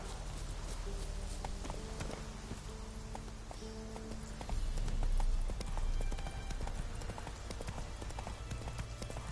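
Rhythmic clip-clop of horse hooves at a walking pace in The Witcher 3: Wild Hunt, steady and close, with a brief louder swell midway and no talking.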